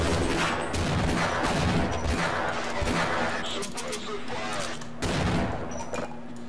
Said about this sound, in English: Both of them, they walked right into grenades